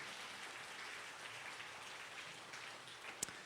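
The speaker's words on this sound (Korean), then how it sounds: "다시 한 번 더 뜨거운 박수 드리겠습니다" Church congregation applauding during a Sunday worship service, a dense, faint, steady patter of many hands heard from a distance, with one sharp click near the end.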